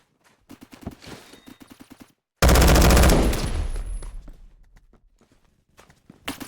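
A gun fires in the Roblox game Phantom Forces: a few quick soft shots, then one loud burst that rings out and decays over several seconds, with light taps around it.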